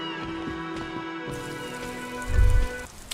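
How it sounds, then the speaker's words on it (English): Steady rain falls in the video game Disco Elysium, a dense continuous patter with music-like tones layered over it and a brief low rumble near the end. "All around you, rain fall, the spring thaw, looking up at the sky."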